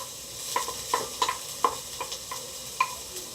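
Vermicelli being stirred in a frying pan with softened onion and pepper: a series of light scraping strokes over a faint, steady sizzle, close and without talk.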